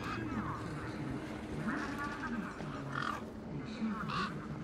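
A large, vicious-beaked bird in the video game Beyond a Steel Sky gives harsh, repeated squawking calls, moderately loud, mixed with voices talking.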